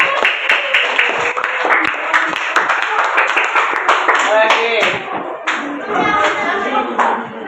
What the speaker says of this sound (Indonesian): tepuk tangan dulu kita semua